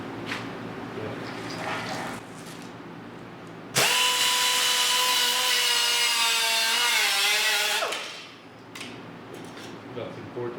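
A power tool cuts through the metal body of a 1972 Triumph GT6, a loud steady whining screech lasting about four seconds and dropping off sharply, with quieter workshop handling noises around it.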